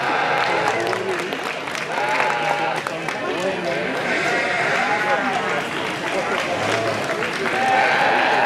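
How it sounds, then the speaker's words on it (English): Applause rings out at a Corriedale sheep show in an indoor sale ring, a steady wash of clapping from the audience with sheep bleating and voices mixed in. "Let's give a nice round of applause."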